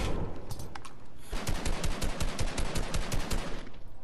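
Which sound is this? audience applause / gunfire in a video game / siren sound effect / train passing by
gunfire in a video game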